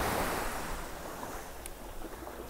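Sea waves wash steadily onto the Konkan shore on a calm morning, a continuous soft surf with light wind noise and no voices.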